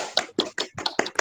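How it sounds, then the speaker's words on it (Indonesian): A short patter of hand claps from a small group, about six quick uneven claps, fairly quiet and close. "Tepuk tangan buat kita semua."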